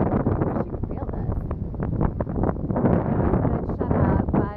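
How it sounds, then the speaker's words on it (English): Strong gusting wind buffeting the microphone outdoors in Clinton, Iowa as tornado conditions build with sirens already sounded, loud rumbling roar rising and falling, with a person talking over it. "this is really pretty windy"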